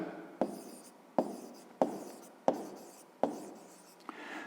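Chalk or a pen writes on a board during a fifth-grade maths lesson: five short, sharp strokes land at roughly even intervals, each with a brief scratchy tail, quiet and close, with no speech.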